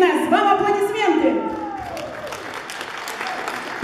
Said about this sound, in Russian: Вам аплодисменты!